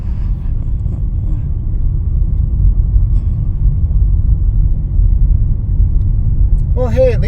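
A car's engine and tires give a steady, loud, low rumble as it creeps slowly along a winding mountain road with guardrails, with another slow car nearby. A voice briefly chimes in at the very end.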